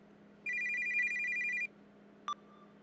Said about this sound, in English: And now I'm getting phone calls